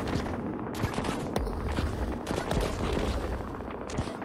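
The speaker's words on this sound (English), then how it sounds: "Now that my shields are gone, I can resume firing and just take down everything." Rapid weapon fire in the game Utopia Must Fall, a dense, hectic stream of overlapping shots and impacts crackling constantly with sharper bangs scattered throughout, loud and without talk.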